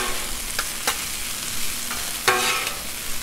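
Potatoes and sausage sizzling on a Blackstone griddle while being stirred with a spatula, steady frying hiss broken by several sharp scraping clacks, close and alone.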